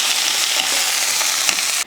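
Steady, close sizzling of okra frying in hot oil, a dense crackle with faint stirring scrapes, cutting off abruptly at the end.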